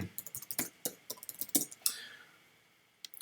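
A computer keyboard being typed on to enter a command, a quick run of close, crisp key clicks that thins out and trails off into near silence before one last tap.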